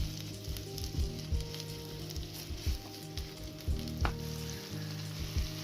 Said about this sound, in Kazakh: Ең бірінші жуамызды 1-2 минут қатты қызып тұрған пеште қуырып аламыз